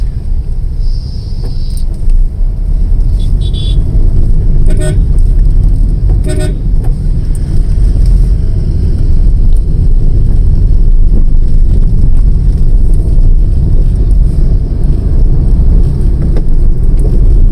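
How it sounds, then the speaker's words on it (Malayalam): Busy evening traffic on the NH66 highway between Alappuzha and Oachira: a steady, loud roar of passing vehicles with wind buffeting the microphone and a few short horn toots early on. "റോഡിൽ ഭയങ്കര തിരക്കാണ്."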